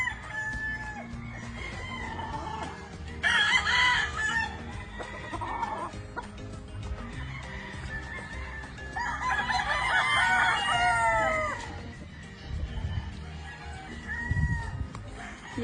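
Roosters crow repeatedly at a gamefarm where birds are kept under shaded netting, with clucking between the crows and a few nearby cries standing out above steady low farm noise throughout.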